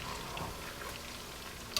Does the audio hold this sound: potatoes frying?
yes